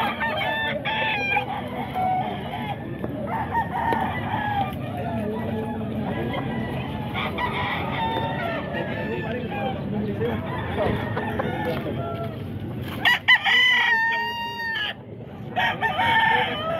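Roosters crow repeatedly at a chicken market in Bocaue, Bulacan, with clucking fowl and a busy background; sharp, close crows stand out near the end.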